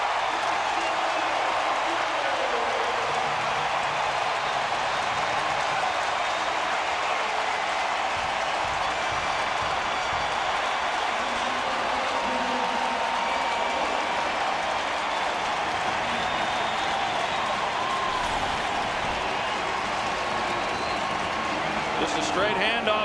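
Stadium crowd roaring after a New Orleans Saints touchdown against the New York Giants in 2009, a dense, sustained wash of cheering and clapping that stays steady and fairly distant throughout.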